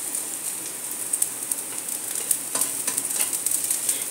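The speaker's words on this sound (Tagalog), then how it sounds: "Gisa natin hanggang sa mag-light brown siya." Aromatics sauté in a hot oiled pan for squid adobo, a steady close sizzle with small crackles and occasional scraping stirs, heard alone with no talking.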